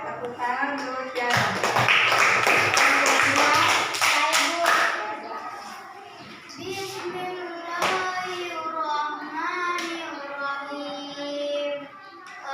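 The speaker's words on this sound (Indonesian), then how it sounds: "Ya, tepuk tangan terus ya." Children clap their hands in a burst of loud, rapid claps lasting a few seconds during a Quran lesson on Surah al-Ma'un, then the clapping fades and a voice continues talking.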